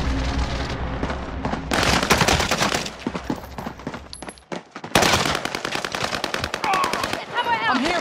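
Video game combat with rapid automatic gunfire bursts and sharp shots, loud and continuous, broken by a brief lull, with in-game voices speaking over the shooting.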